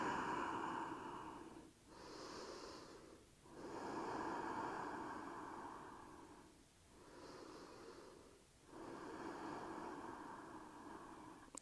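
A person breathes slowly in and out during a yoga stretch, four long audible breaths with short pauses between them, close and soft.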